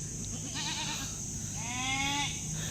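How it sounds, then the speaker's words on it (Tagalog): Goats on a farm give two clear wavering bleats, close and moderately loud, over a constant hiss of outdoor background noise. "So ito yung mga kambing"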